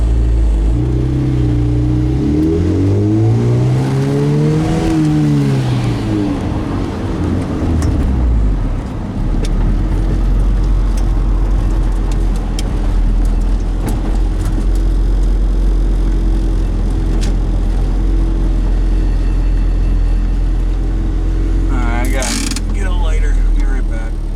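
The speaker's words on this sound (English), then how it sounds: "Turbo B20 from a CRV. Yeah. It gets up and goes." A turbocharged Honda B20 engine from a CR-V pulls hard in a car, its loud drone rising and falling through the gears, with a sharp burst near the end.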